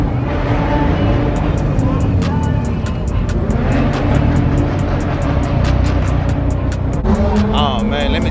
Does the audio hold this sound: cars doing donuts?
yes